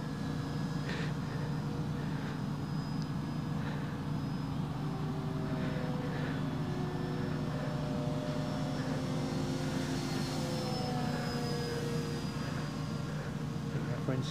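Steady droning engine of a Tiger Moth biplane flying at sunset, a continuous low hum with a faint high whine, heard at moderate distance under wind and occasional voices.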